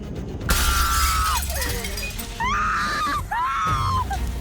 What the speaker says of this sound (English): Her terrifying close encounter showers her in broken glass